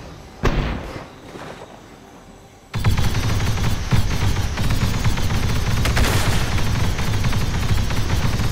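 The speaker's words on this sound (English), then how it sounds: "Stanko grenade launcher is amazing. Well, if you hit, that is." Grenade launcher firing in the Roblox Clone Wars game on a battlefield: a few sharp thumping shots early on, then a sudden loud wall of continuous explosions and heavy gunfire rumbling steadily to the end.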